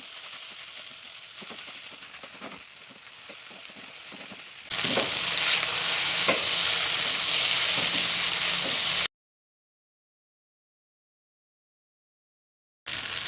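Spicy sausage fried rice with sambal being stirred in a hot pan: steady sizzling frying hiss with soft scraping stirs, louder and brighter in the second half, then a stretch of silence before the sizzle briefly returns.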